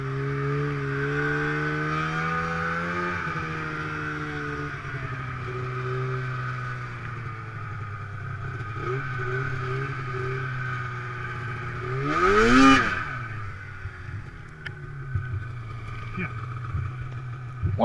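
Motorbike engine revving in a meadow during wheelie attempts near Yanks Peak, with a steady idle that surges into one sharp, loud rev near the end before settling again.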